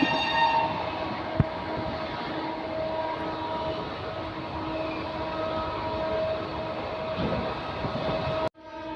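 The Shahid Express, Howrah to Rampurhat train 12347, rushes through Dankuni Junction at platform 3 with a loud, steady roar and a sharp knock early on, and the sound cuts off abruptly near the end.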